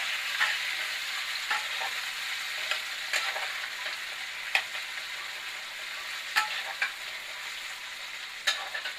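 Spiced paneer curry sizzling in a pan as half a tomato goes in, a continuous soft frying hiss broken by sharp clicks and scrapes of stirring, with no voices.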